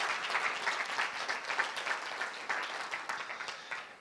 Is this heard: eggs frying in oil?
no